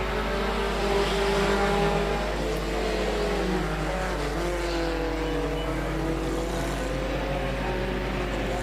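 Stock cars race in a pack at a Border regional meeting, a loud, continuous roar of many engines droning and rising together with no break and no talk.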